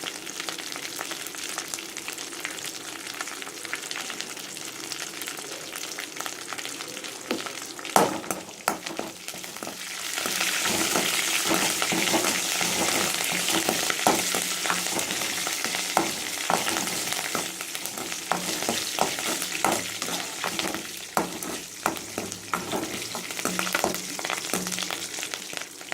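Red chilies crackle and fry in hot oil, the sizzle swelling louder partway through, with occasional scraping and stirring in the pan.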